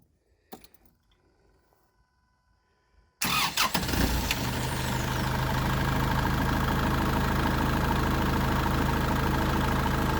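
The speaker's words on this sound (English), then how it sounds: "go ahead and fire this up real quick. I want everybody to hear this thing run." A Kubota L4060 Limited Edition tractor's four-cylinder diesel starts after a few faint clicks and near silence, then settles into a loud, steady, close idle that runs unbroken to the end.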